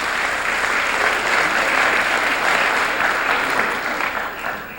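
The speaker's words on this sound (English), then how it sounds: "I think you should give our dean and our School of Communications a round of applause" A lecture-hall audience applauds a dean and a School of Communications, a dense, steady round of clapping that holds strong throughout and tapers slightly at the end.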